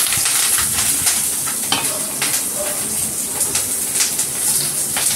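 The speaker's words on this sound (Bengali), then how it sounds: "এবার আমি এইগুলো দিয়ে দেবো ফ্রাই করার জন্য" Cauliflower frying in hot oil in a pan for bharta, with a steady, dense sizzle throughout and occasional light clinks of a utensil against the pan.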